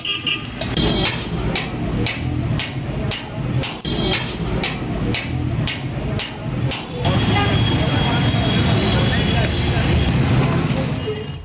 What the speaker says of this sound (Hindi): इसलिए मस्जिद प्रबंधन खुद ही हथौड़ा चला रहा है